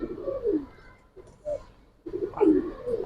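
Giribaz and coloured pigeons cooing close by, a few soft, throaty coos separated by short pauses, with a fuller burst of cooing near the end and no talk.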